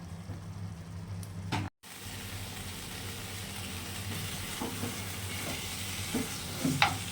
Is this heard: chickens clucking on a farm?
no